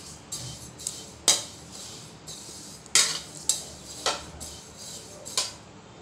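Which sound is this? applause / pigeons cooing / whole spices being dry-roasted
whole spices being dry-roasted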